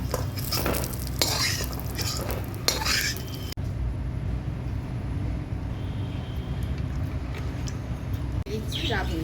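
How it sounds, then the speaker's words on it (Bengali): Lentil dumplings (bori) fry in a little leftover oil in a wok, making a continuous sizzle with clinks of a utensil being stirred; a voice talks over the first few seconds. "কড়াতে যেটুকুনি তেল আছে এই বড়িটা ভালো করে ভেজে নেব।"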